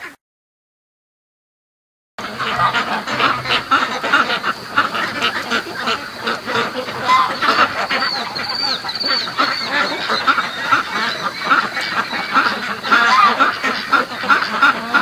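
Ducks being raised in a backyard flock quack and honk in a dense, continuous chorus at 3 a.m. after a brief silent start, loud and close, with overlapping calls and no talking.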